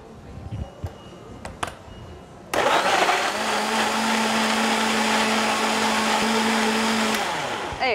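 After a few light clicks and handling noises, a blender roars to life and whirs loudly and steadily as it mixes banana, milk and peanut butter.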